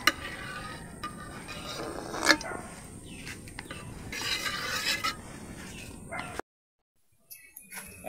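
Garlic and ginger being sautéed together in hot cooking oil for a Filipino pork dish, a steady sizzle with scraping stirring strokes over it, then a brief cut to near silence before sizzling resumes.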